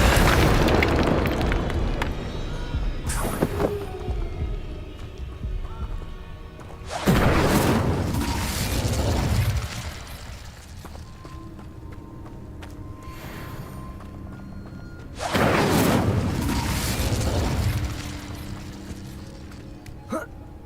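Expulso spell blasts in the Hogwarts Legacy video game: two loud booming explosions with long rumbling decays, plus a smaller burst early on, separated by quieter ambience and music.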